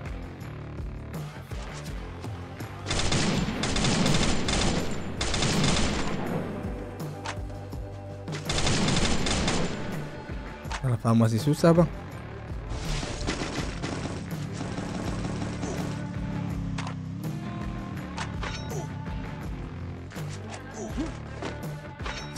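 Gunfire in the mobile shooter Free Fire, with several dense bursts of rapid automatic shots and single loud cracks, close and loud, mixed with game sounds and a brief spoken remark.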